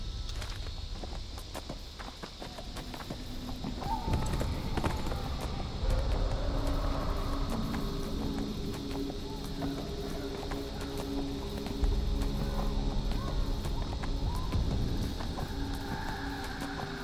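Horse hooves clopping steadily on ground while riding a mount in the online fantasy game Neverwinter, a continuous rhythmic walking gait at moderate distance under faint ambient music and tones, with no talking.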